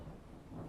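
Low, steady thunder rumbles through a thunderstorm with a rain-like wash, filling the whole short stretch at an even level with no voices.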